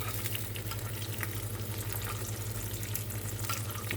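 Eggs half-fry in oil on a tawa griddle, giving a steady close hiss and crackle that runs on without pause and with no talk.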